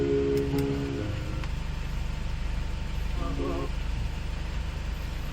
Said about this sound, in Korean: 시동 엔진 소리 좋아요